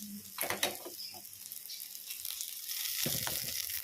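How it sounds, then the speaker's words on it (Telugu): Onion, green chili and ginger fry in leftover oil in a wok, a close sizzling hiss with a few stirring clatters early on, the frying growing louder and steadier toward the end. "ఉల్లిపాయ, పచ్చిమిర్చి, అల్లం ఈ మూడింటిని ఇలా వేయించేసుకుందాం"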